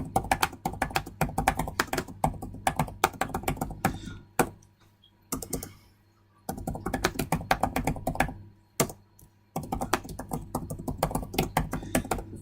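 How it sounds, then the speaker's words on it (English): Fast typing on a computer keyboard while writing an email, dense runs of crisp close keystrokes broken by several short pauses of a second or two. "So if I was to type an email,"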